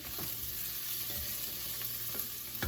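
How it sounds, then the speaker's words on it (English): Garlic fries with a steady sizzle in a pan alongside carrots and onions, a continuous close hiss broken by a few soft stirring scrapes, with no talking. "you just want to kind of cook the garlic just, I don't know, half a minute"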